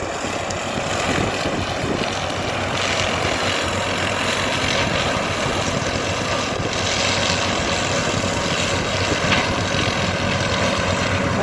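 A tractor engine drones steadily and continuously at close range while mowing, with no break in its loud, even hum throughout.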